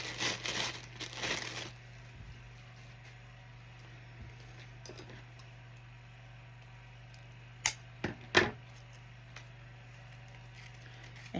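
Wire cutters snipping pipe cleaners for a gingerbread wreath: a burst of rustling handling at first, then a quiet stretch and a few sharp, close clicks of the cutters closing.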